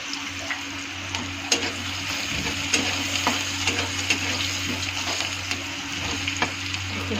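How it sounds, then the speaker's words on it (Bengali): Black cumin seeds dropped into hot oil with reddened onions, a close steady sizzle dotted with small pops and ticks, no one speaking. "আমি এখন ওর মধ্যে হাফ চা চামচ কালো জিরা ছেড়ে দেবো"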